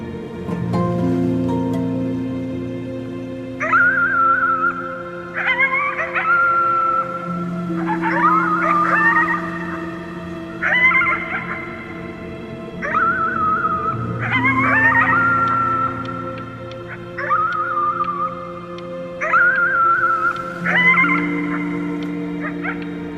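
Howling at the moon in the video game Before Your Eyes, with long rising and falling wails repeating over a steady tonal music bed, prominent and drawn out, with no talk.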